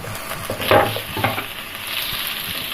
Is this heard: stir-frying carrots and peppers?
yes